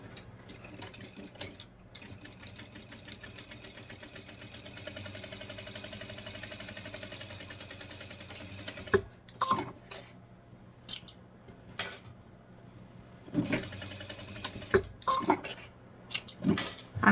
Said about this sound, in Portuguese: eu vou passar uma costura de um pé de máquina aqui e aqui